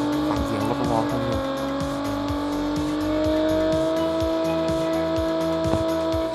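In Call of Duty Mobile, a muscle car's engine revs and drones steadily for several seconds, pitch holding and shifting with rhythmic pulses. A faint squeal of tires rises in the middle, all loud and close.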